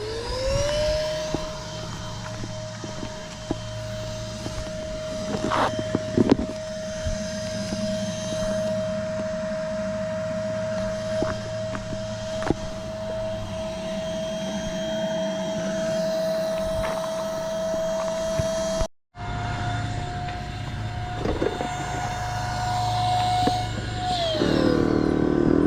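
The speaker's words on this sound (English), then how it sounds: "Hit the power button again and it starts to pump." Electric pump inflating a Sea Eagle 437ps PaddleSki, a steady motorized drone with a constant whine that runs for about 19 seconds, cuts out briefly, then resumes and winds down near the end.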